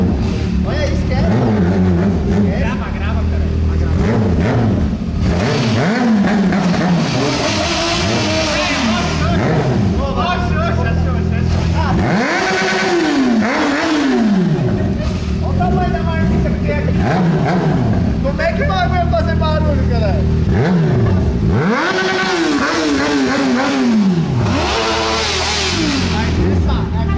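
A Honda Hornet motorcycle engine revs repeatedly, pitch rising and falling in loud sweeps, while someone talks over the noise.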